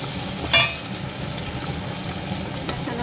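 Onion frying in a pan for chicken curry after lemongrass, with a steady close sizzle and occasional scrapes of stirring, one sharper clink near the start.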